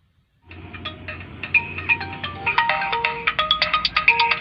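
A mobile phone ringtone sounds for an incoming call, a bright repeating melodic tone that starts abruptly and grows louder in regular pulses, close and alone.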